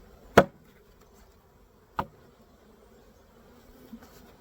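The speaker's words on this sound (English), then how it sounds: "we're going to dump the rest of the bees from our box and from our lid" Honey bees are knocked out of a box and lid into a hive box, giving two sharp wooden thumps over a faint, low background buzz, with no talking.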